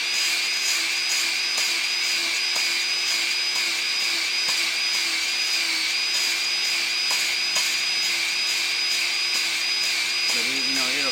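A valve in an LS engine head spins against its seat with lapping compound, a steady, gritty whir that stays close and constant throughout, while someone talks over it.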